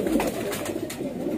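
Pigeons coo in a hobby breeder's loft, giving soft, low, throaty coos that overlap in a dense, continuous murmur. Faint fluttering and scuffling sounds sit over the top, and the sound is close and steady.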